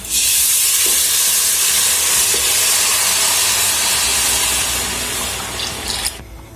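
A steady, loud hissing pour of coconut milk into a pot running for several seconds with no talking, easing off near the end.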